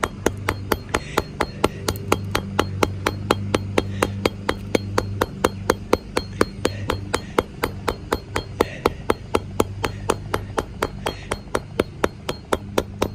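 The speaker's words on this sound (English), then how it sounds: "now I'm just beating the crap out of it, trying to get it to cut with just the hammer" Repeated hammer blows strike cape material along a chalk line, using both faces of the hammer to force a cut; sharp metallic impacts land in a steady, rapid rhythm, close and loud, with no talking.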